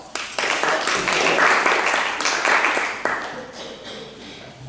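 A church congregation at its annual members' meeting breaks into applause to approve a motion, a dense burst of many hands clapping that swells, then thins out over a few seconds, with some voices mixed in.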